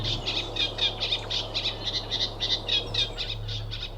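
A reed warbler sings from a reed bed in a rapid, chattering run of repeated scratchy notes, fairly close and steady over a low background hum.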